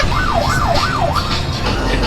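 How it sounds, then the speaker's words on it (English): A wailing emergency vehicle siren, likely an ambulance, sweeps up and down in steady rising-and-falling cycles, loud and close over a constant low engine and road rumble. "Turn on the lights, turn on the sirens, everything."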